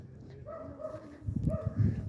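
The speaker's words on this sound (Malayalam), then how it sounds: "ഒരു പെറ്റ് ഡോഗ്." A pet dog on a path near the apparition hill in Medjugorje gives a few short whimpering yelps and a bark, moderately close but fairly soft over outdoor background noise.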